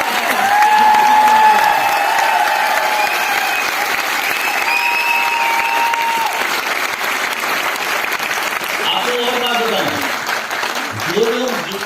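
An indoor audience at a success training seminar claps steadily, dense sustained applause that stays loud throughout, with a voice speaking over it in the latter part.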